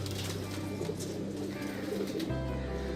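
Pigeons kept by a pigeon fancier coo close by in deep, repeated throaty murmurs over a soft steady background hum.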